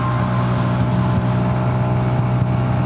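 A fully loaded Lambretta G350 scooter engine accelerates uphill while overtaking, giving a loud, steady, close-up droning roar with wind rush and no letup.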